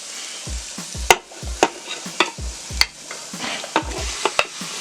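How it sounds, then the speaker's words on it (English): About 1.5 pounds of cubed beef sears in a PPCXL pressure cooker, giving a steady sizzle broken by repeated scraping and stirring knocks at a rough, irregular pace, with the pieces clattering against the pot. "We're just going to sear this off."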